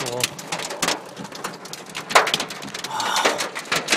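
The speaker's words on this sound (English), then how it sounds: "my car is being pelted by hail" Hailstones pelt a car during a sudden June hail storm in Brampton, making a dense, irregular patter of hard hits that fills the whole stretch, with a person talking over it.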